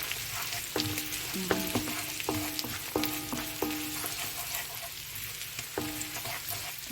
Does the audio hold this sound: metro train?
no